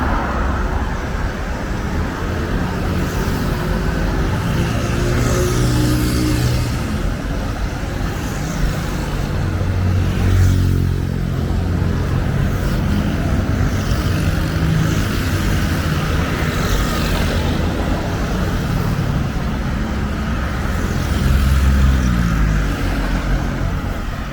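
Road traffic flowing through Akwaba junction in Port-Bouët, Abidjan, a continuous wash of cars, trucks and buses passing at mid distance, with engines swelling and fading throughout.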